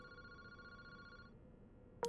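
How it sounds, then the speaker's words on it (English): A telephone ringing in the horror video game Paranormasight, set in a quiet park at night: a steady electronic ring tone held for about a second before cutting off, with a sharp game sound at the very end. "Ringing of the phone is the only sound going through the quiet park."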